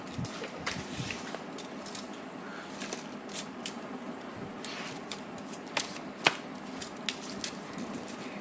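Dropped playing cards are gathered and handled close by: soft riffling and shuffling with scattered sharp taps and clicks, quiet and without any talking.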